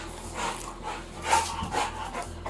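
A dog pants and whimpers softly in a room, with low, intermittent breathy sounds spread across a couple of seconds under faint background noise.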